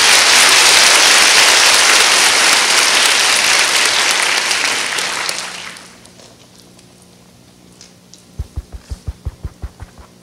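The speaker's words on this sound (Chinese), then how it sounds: "热烈的掌声来欢迎 Jason 上台做他的封麦演讲" Warm applause from a conference audience at an open-source event welcomes a speaker onto the stage, loud and sustained for about five seconds before fading, then a few sharp thumps follow.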